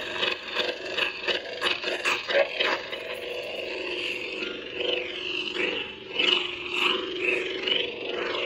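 A low electric hum from a Xenopixel-core lightsaber wavers and swells as the blade swings back and forth, with soft whooshing surges and no talking.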